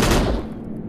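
A burst of gunfire from the VR game Crashland on the Oculus Quest 2, one loud, close volley that cracks sharply and then rings down over under a second.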